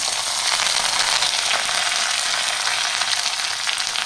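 Onions with cumin, curry leaves and crushed garlic sauté in a pan for a Tamil drumstick and brinjal thokku, giving a steady, loud, close sizzle that holds evenly with no talk.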